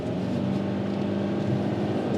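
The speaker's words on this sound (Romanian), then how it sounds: "Motorul nu e foarte zgomotos. E chiar silențios." A Subaru Forester mild hybrid drives through curves, its engine quiet beneath a steady, close road and cabin hum with low rumble throughout and no speech.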